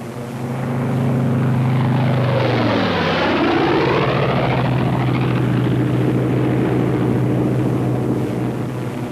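A WWII American fighter plane peels away from a loose string formation. Its piston engine drones loudly, then drops in pitch as it passes close by at about three seconds, and a steady roar carries on afterward.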